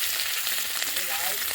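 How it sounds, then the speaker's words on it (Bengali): Fish frying in oil in a wok gives a steady, close, loud broadband sizzle that holds evenly throughout with no talking. "এক কড়াই মাছ ভাজা হয়ে গেছে"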